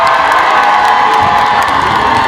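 A large crowd at the opening ceremony of the 2026 East Asia Culture City event in Andong cheers, whoops and shouts. The roar is loud and sustained, with high voices mixed in and no speech on top.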